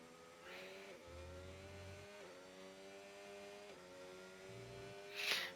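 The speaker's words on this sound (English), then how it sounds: "I have to say the sound is also really good of this car." A McLaren Formula 1 car's engine finishing a lap, a high harmonic whine rising through repeated upshifts with gear-change dips, then a brief sharp burst near the end.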